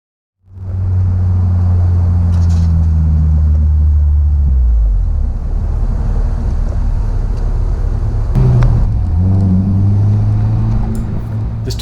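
A Honda S2000 accelerating onto a warm-up lap at Donington Park during a track day, a loud steady engine drone rising in pitch, heavy wind buffeting over it, with a gear change and brief knock partway through.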